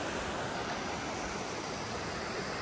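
Floodwater rushes through a washed-out dike along a creek on farmland, a steady, loud broadband roar of flowing water with no pauses.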